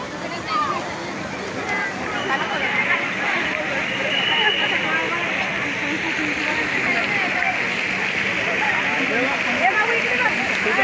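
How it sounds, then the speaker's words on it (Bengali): Water falls from a fountain at a scenic outdoor viewpoint, a steady broad rushing wash that holds even and fairly loud throughout, with a faint murmur of people in the background. "জলের ফোয়ারা।"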